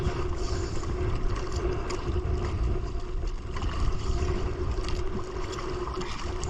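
A boat engine runs with a steady low rumble and droning hum on the water, continuous and close, with a faint wash of wind and water around it and no break in the sound.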